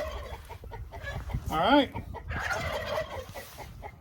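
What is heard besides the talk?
chickens clucking in a coop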